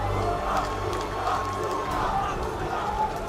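A hometown esports crowd at a Call of Duty playoff event keeps up a loud, sustained roar of cheering and shouting, with nearby voices talking over it.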